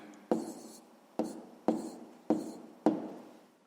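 Pen writing by hand on paper during a sixth-grade maths exercise: five short, crisp strokes spaced about half a second apart, close and quiet, with no voices.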